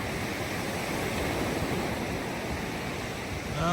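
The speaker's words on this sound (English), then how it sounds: "the waves crash onto the beach here" Ocean waves break on a beach in the Philippines, giving a steady, full rush of surf that stays loud throughout, with no voices.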